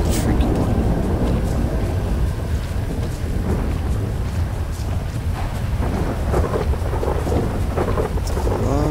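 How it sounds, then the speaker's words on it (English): Heavy rain falls continuously with deep rolling thunder in the GTA V video game. The storm is loud and dense throughout, with rumbles swelling and fading. "It's a lot of thunder and lightning."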